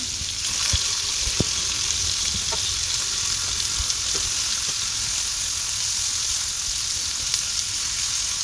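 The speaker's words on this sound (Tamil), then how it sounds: "ஸ்டவ்வை லோ டு மீடியம் ஃப்ளேமில் வச்சு நல்லா வேக வச்சு எடுத்துக்கலாம்" A flatbread cooks on a pan over a low to medium flame, producing a constant, even frying hiss with a few faint clicks scattered throughout.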